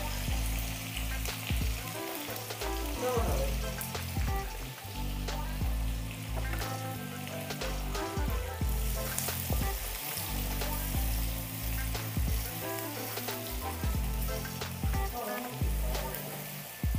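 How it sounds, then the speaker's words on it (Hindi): Chopped onion fries in a pan with cumin seeds for jeera aloo, a steady close sizzle with crackling pops running throughout, overlaid by a recurring low rhythmic tonal pattern. "प्याज को ज़्यादा नहीं भूनना है हमें, बस इसका कच्चापन निकालना है।"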